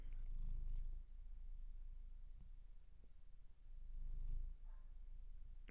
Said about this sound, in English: Can you guys still hear Masha purring?